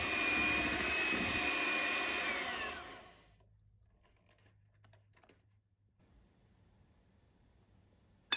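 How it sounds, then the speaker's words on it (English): Electric hand mixer whisking lemon cream for a lemon cake, a loud steady whirring drone for about three seconds before cutting off, followed by faint quiet clinks. "whisk it well with a mixer"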